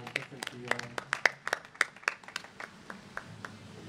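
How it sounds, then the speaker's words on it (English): An audience at a talk on the history of Black music gives scattered, uneven applause with crisp individual claps that thin out toward the end, mixed with faint voices. "give yourselves a round of applause for being so patient with us"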